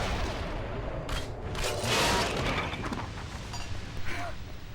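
Sniper shots fired from across a wide chasm in the Hellboy: The Science of Evil video game, several distant cracks and booms over a rumbling game soundscape, fairly quiet.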